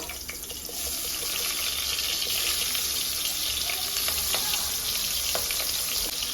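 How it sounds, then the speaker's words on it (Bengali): Prawns fry in hot mustard oil in a pan, giving a loud, continuous close-up sizzle with a dense hiss and scattered crackles and pops that run steadily throughout. "তেলটা আমার গরম হয়ে গেছে এবারে যে এক এক করে চিংড়ি মাছগুলো দিয়ে দেবো"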